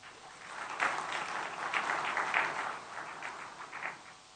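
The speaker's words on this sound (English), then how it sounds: "So could we please give them a big round of applause?" An audience at a China–Bangladesh trade and investment conference breaks into applause, a moderately distant, even crowd clapping that swells slightly midway and holds steady throughout.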